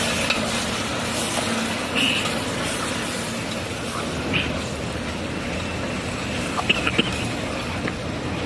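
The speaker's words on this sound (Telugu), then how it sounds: "చూసిరా ఎట్లా కలుపుతున్నాడు మా అన్నయ్య" Chicken curry stirred in a pan as it fries, giving a steady close scraping and sizzling texture with small clatters throughout.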